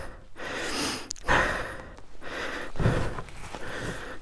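Heavy, labored breathing of a motorcyclist after a steep trail climb, loud close gasps and exhales in an uneven rhythm of about five breaths, with no speech.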